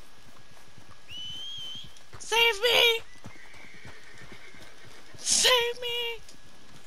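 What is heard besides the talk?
horse galloping in video game Red Dead Redemption 2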